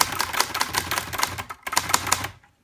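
Keys strike on a Hermes 3000 manual typewriter in a quick, uneven burst of crisp, close clacks. A short pause falls in the middle, and the typing then stops abruptly.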